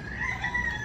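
A brief, steady murmur of chicken clucking close by, with a sustained higher bird call running through it.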